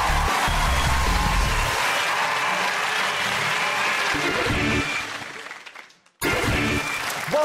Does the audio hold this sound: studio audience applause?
yes